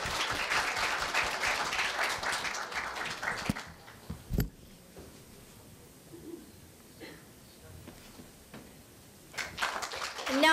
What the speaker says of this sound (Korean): 박수로 환영해 주시길 바랍니다.